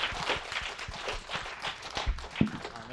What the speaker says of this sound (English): Let's give another round of applause to Professor Pettid